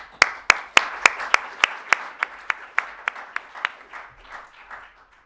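Audience applause greeting Kamel Ben Naceur as he comes to speak at a World Energy Outlook 2015 presentation: a run of sharp, evenly spaced claps that start strong and thin out over about five seconds, with no talk.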